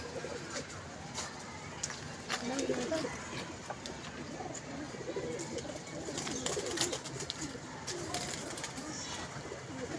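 Pigeons at a pigeon club coo softly and repeatedly in the background, faint low calls recurring throughout with occasional rustles and clicks nearby.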